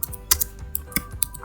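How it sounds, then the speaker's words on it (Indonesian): Close, crisp keystrokes on a computer keyboard as values are typed into an Excel spreadsheet, coming as irregular single taps and short bursts, with no talking. "Sekarang bagaimana caranya kalau kita mulai mengetik?"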